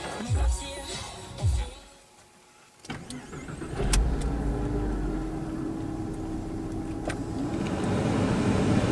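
A Porsche Boxster 986 or 996 cranks over briefly after a couple of clicks, then fires and settles into a steady, close engine idle that continues throughout.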